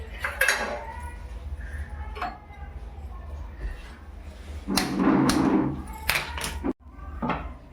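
Metal cooking pot set onto a gas stove for tuna biryani, with clanks, clinks of utensils and a heavy thud, close and loud, while someone talks over it.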